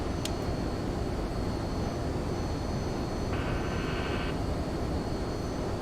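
An MD80 airliner cruises in a flight simulator game, giving a steady, unbroken engine and air roar throughout, with a faint brief tone partway through and no speech.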